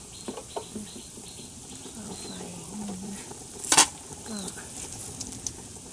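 Butterfly pea flower water boils in a pot at a rolling boil, a soft bubbling hiss with scattered pops, a sharp metallic clatter of pot or utensil, and birds and a rooster faintly in the background.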